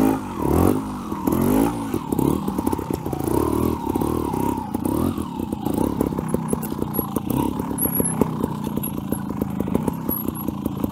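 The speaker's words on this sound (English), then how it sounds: "You're going to hear the engine rev." A trials motorcycle engine revs hard and rises in pitch, then settles into rapid choppy bursts as the throttle is worked, loud and close with no talking.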